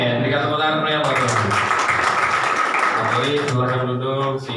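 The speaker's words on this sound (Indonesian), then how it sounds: "Berikan tepuk tangan yang bagus." Church congregation applauding after a prayer during a sermon service, a dense, steady wash of clapping that carries throughout, with voices and musical tones sounding beneath it.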